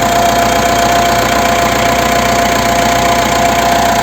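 A steady diesel engine of a 2020 Mitsubishi Triton 2.5 GLX pickup idles continuously nearby, a constant rumbling drone with an even knocking texture and no voices.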